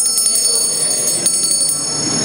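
A small bell is rung repeatedly in a church, a rapid ringing trill of bright metallic strikes that continues steadily and fairly loud throughout.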